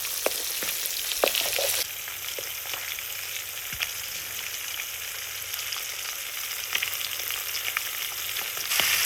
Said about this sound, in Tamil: இப்போ மீன் பொரிக்கிறதுக்கு போடுவோம்